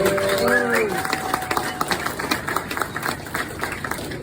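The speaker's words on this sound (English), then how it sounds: "So a big round of applause for Kev." A conference crowd at a cryptocurrency community gathering claps in a steady burst of many hands, with a voice speaking briefly at the start before the applause carries on alone.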